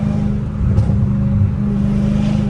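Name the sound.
Dodge Hellcat Redeye supercharged car accelerating, second gear pull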